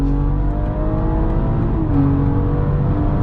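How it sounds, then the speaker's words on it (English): A BMW engine revs hard and climbs in pitch from about 80, briefly dipping as a gear changes before pulling up again, loud and close throughout. "Now you can hear the shifts."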